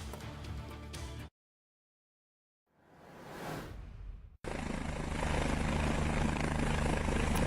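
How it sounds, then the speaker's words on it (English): A rescue helicopter flies over snowy slopes in the French Alps, its rotor roar loud and close, cutting out into silence, swelling back briefly as a passing whoosh, then returning steady and strong. "take a look at this new video of a daring helicopter rescue"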